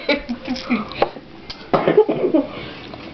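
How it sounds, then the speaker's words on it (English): A person coughs in short, close bursts, with a few separate hacks early on and a denser run of coughing later, set against low room noise. "I'm gonna get all my coughs out now"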